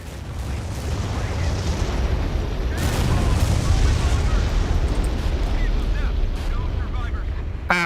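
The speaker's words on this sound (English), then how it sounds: "There comes the airstrike again." Airstrike in the Cold War tactics game Regiments, a sustained barrage of deep rumbling explosions and crackling bursts swelling in the middle, with a voice talking over it.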